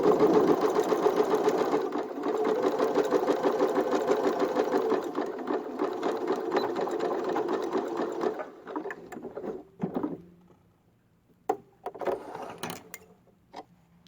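A sewing machine stitches cloth mask fabric over a seam in a steady, close, continuous whirring run that stops partway, then gives way to a few short bursts and clicks.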